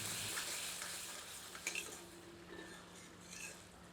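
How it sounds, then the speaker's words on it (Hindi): Crab curry being stirred with a ladle in a pot over low heat, giving a soft continuous sizzle with a few faint scraping clinks, fairly quiet and steady throughout with no talking. "एक बार करछी चलाकर सारी सामग्री को अच्छी तरह से मिला देते हैं।"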